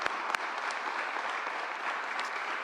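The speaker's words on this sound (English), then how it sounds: "Let's give them all a strong round of applause." Applause from an audience honoring clergy at a public event with a governor: a steady, dense round of clapping that fills the whole stretch at even loudness, with no voices over it.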